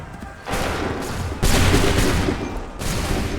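Musket volleys boom in the Assassin's Creed 3 video game, a loud dense fusillade of rolling gunfire arriving in two heavy waves that sustain and rumble without voices.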